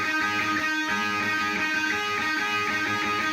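Distorted electric guitar picking out chord notes one after another in a continuous, dense, buzzing line, loud and unaccompanied by speech.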